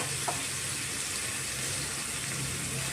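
Coriander, chili powder, turmeric and salt fry in oil in a pan with a faint, even sizzling hiss that holds steady and close throughout.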